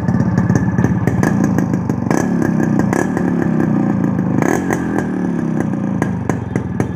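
Motorcycle with an altered muffler core idling after starting, giving a steady, loud, continuous exhaust beat with slight clattery irregularities and a brief blip of throttle midway.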